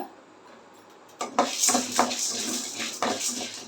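Chana dal and urad dal being stirred in a pan: scraping and clinking of a utensil against the metal comes in short bursts after a quiet start, close and fairly soft, with no voices.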